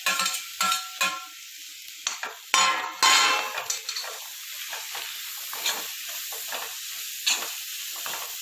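Chopped tomatoes sautéing in a hot masala in a pan for mutton varattiyathu: steady sizzling and hiss broken by scraping stirs and spoon clatter against the pan, close and clear with no talking.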